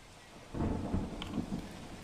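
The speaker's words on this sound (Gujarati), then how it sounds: "દ્વારકાના કલ્યાણપુરમાં ધોધમાર વરસાદ આવ્યો છે।" Heavy rain in Kalyanpur, Dwarka, Gujarat, a steady wash of rainfall with a low rumble of thunder swelling midway, moderately loud and without voices.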